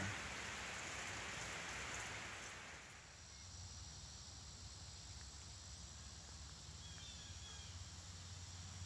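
Steady rain falls and patters on surfaces in Windsor, Missouri, a dense, even hiss that eases a little partway through and then continues.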